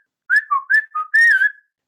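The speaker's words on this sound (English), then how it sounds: "we can also whistle words." A Hmong person whistles a short tonal phrase of about six clear, gliding notes, close and distinct against silence, in the melodic style used to whistle words.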